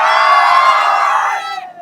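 A crowd cheers and applauds loudly for actor Asif Ali at a temple gathering, a dense, continuous roar that holds steady and then thins out near the end.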